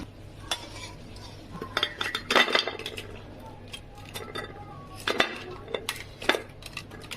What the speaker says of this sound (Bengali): গরম মশলা দিয়ে একটু নাড়াচাড়া দিয়ে এবার আমি নামিয়ে দেব